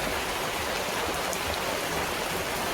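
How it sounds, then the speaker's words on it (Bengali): Heavy rain pours down steadily in a dense, unbroken hiss, loud and close, with no voices. "মুষলধারে বৃষ্টি হচ্ছে।"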